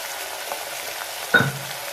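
Mutton sautés in oil with turmeric and salt for a wedding-style meat curry, giving a soft, even sizzle and one brief clank of a spoon against the pot.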